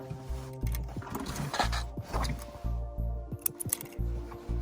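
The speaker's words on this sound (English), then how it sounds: "And now sew it along welt till end." A sewing machine stitches along the self welt of a throw pillow in short bursts, its low motor hum and rapid needle clatter starting and stopping several times, close by with no talk.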